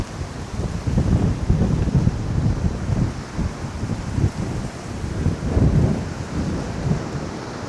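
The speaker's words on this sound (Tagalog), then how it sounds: "Sobrang lakas talaga ng hangin." Strong wind buffets the microphone at a seaside viewpoint on Boracay island, a loud, continuous roaring rumble with gusting swells throughout.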